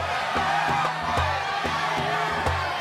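A crowd welcoming Jesus into Jerusalem cheers and whoops continuously, with rhythmic shouted voices over a dense, close roar of many people.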